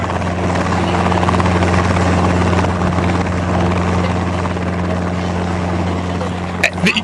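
Steady, loud helicopter engine and rotor drone that holds evenly for several seconds, with a brief clatter near the end.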